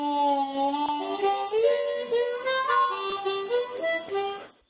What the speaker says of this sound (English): those notes, which I'm creating a different pitch on the harmonica in this way